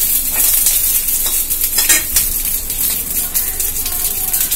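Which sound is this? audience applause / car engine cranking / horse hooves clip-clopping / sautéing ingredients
sautéing ingredients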